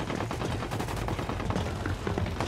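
Dense, sustained gunfire from a full-blown firefight in the game Ghost Recon Wildlands, many rapid overlapping shots forming a continuous loud barrage with no talk.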